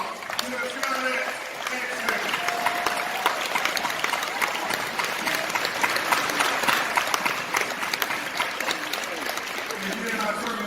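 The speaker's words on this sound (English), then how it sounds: "give a big round of applause to Scott X" Convention crowd at an NAACP gathering breaking into sustained applause, dense clapping throughout with some voices mixed in, loud and steady from start to finish.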